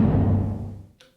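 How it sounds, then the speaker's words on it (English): A single roomy kick drum sample from an Elektron Digitakt pack thumps once and trails off in a reverb tail, followed by a faint brief click, alone and with no voices. "Then we have one kick, which is very roomy and sounds like this."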